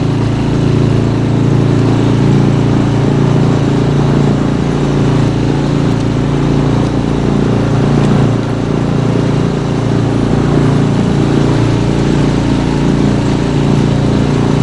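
Outboard boat motor running steadily at low revs on a taiga river, loud and close, with a constant droning hum and no pauses for the whole stretch.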